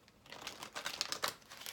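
Oracle card decks being shuffled, a run of quick papery riffles and taps rising and falling close up with no voice over them.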